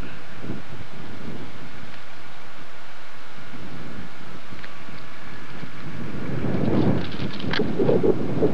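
Strong wind buffets the microphone, producing a continuous low rumble that swells louder toward the end. No voices.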